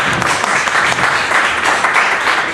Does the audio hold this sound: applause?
yes